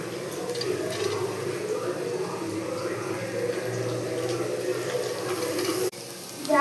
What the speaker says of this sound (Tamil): இப்போ கேரட்டையும் பீன்ஸையும் போட்டுடுறேன்